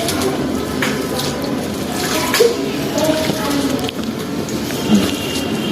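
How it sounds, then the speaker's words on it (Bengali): Water poured from a small vessel over the left foot during wudu, a close splashing and trickling stream with uneven gushes and drips throughout. "বাম পাটা ধুয়ে নেব।"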